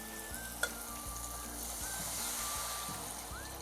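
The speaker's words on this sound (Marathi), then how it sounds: "आता पाणी टाकते।" Water poured into simmering masala with tamarind pulp for a Koli-style catfish curry sets off a soft, steady sizzle and bubbling, fairly quiet and close, with a brief clink near the start.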